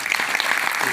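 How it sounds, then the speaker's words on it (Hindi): An audience at a Vestige business talk by Vivek Saxena gives a loud round of applause, a dense, steady wash of clapping filling the whole second with no talking. "एक बार जोरदार तालियां"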